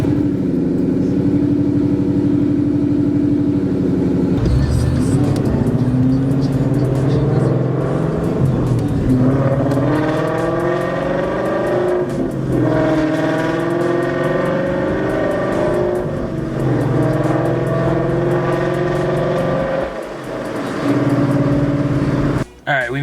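A car engine turns over and settles into a loud running hum, revving and shifting as the vehicle drives, with steady road noise throughout.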